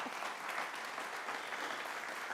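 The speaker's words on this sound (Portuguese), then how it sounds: "nós pedimos aplauso para senhora Elia e Sênia" Steady audience applause for Elia and Sênia on a television program, a dense, even wash of many hands clapping throughout, moderately distant with no voices over it.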